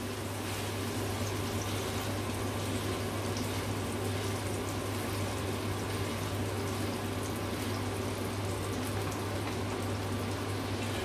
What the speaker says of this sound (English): Leave it to sizzle.